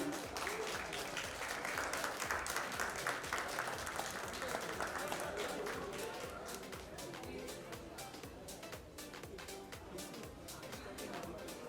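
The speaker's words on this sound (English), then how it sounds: "can we have a huge round of applause, everybody, for the entire team?" A large audience at a Savlon Swasth India Mission event applauds the team in a long, dense wash of clapping that eases slightly midway and carries on steadily.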